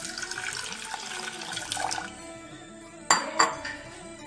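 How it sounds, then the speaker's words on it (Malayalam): Water runs and splashes into broken wheat in a kitchen vessel for a banana and wheat payasam, a close pouring rush that stops partway, followed by two sharp clinks of a metal pot. "ആവശ്യത്തിനുള്ള വെള്ളം ചേർക്കാം"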